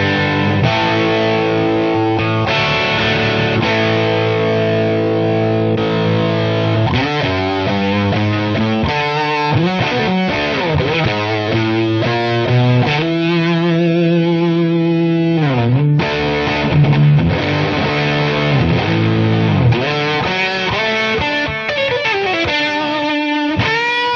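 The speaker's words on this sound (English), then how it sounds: "Here's a cranked up AC15 with an OCD assigned to the distortion patch." Electric guitar played through a Digitech RP1000 multi-effects unit set to a cranked AC15 amp model with OCD distortion, loud and driven with sustained chords, riffs and bending single-note lines, no talking.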